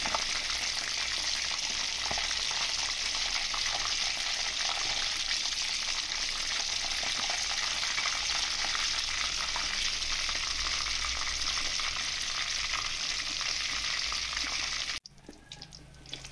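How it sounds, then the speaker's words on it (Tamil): Food stirs and fries in a pan over a low flame, giving a continuous, even sizzle with faint scraping of the stirring, then an abrupt drop near the end. No one talks. "நல்லா கரட்டி விட்டுக்கிடுவோம்."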